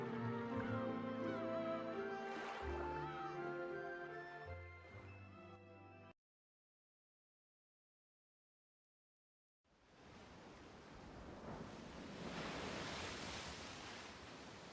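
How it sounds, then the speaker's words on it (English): Rough, enraged sea waves surging and crashing in a visual novel game, first under a music-like tonal bed, then a silent gap, then loud, broad continuous surf washing in. "The sound of waves flows into my ears. The sound of an enraged sea."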